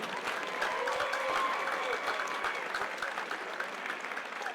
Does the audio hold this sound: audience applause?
yes